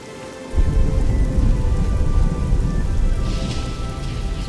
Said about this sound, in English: I can barely hear anything with all this storm raging around me.